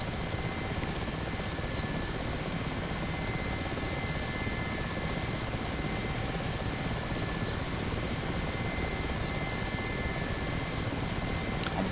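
Mi-8 helicopter in DCS World, with a constant loud rotor and turbine drone that stays steady and unbroken from start to finish.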